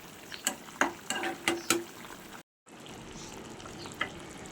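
Rohu fish curry simmers in a pot at a gentle boil, with soft bubbling under a handful of sharp clinks and scrapes of a utensil, a brief silent gap, then a quieter continuous simmer.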